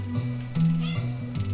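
A kitten meows several times in quick succession, close and fairly loud, each cry short and wavering.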